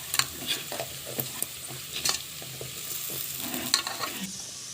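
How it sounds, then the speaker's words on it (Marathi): Spices and asafoetida sizzle in a pan for cabbage rice while a spoon stirs them, with steady close frying hiss and several sharp scraping strokes. "ते सगळे आता घालायचे सगळं फिरवून घ्यायचं"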